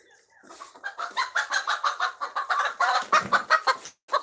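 Chickens cluck busily and continuously at close range, a dense flurry of overlapping clucks and short squawks ending in a brief pause.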